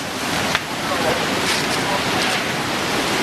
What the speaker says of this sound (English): powerful waves carried cars, homes, and debris inland